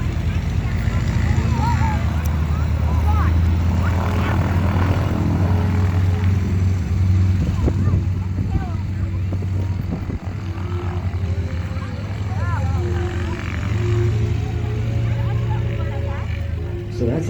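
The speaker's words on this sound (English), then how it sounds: "So that's a total of 750 horsepower taxiing out onto the north end of the field, or the south end." Radial-engine propeller airplanes, including a nine-cylinder Lycoming and a 450-horsepower engine with a variable-pitch propeller and gear-driven supercharger, taxiing at a Virginia air show: a steady, loud, throbbing engine drone with a low rumble and someone talking over it.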